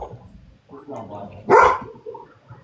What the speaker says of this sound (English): What did you do to upset those puppies, Amber?